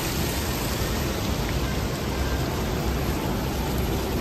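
Steady rain falls at Victoria Peak in Hong Kong, a dense, even hiss that fills the whole moment without a break, close and fairly loud with no voices.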